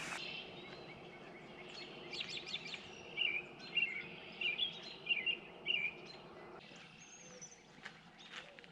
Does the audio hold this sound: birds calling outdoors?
yes